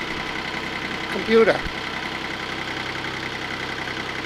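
Steady motorcycle engine drone picked up by an Edutige ETM 008 microphone mounted on an open-face helmet, a constant hum with a brief louder bump partway through while someone speaks briefly.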